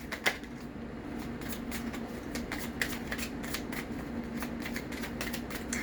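Oracle cards are shuffled by hand in a long run of quick, crisp riffling flicks, close and fairly quiet over a low steady hum.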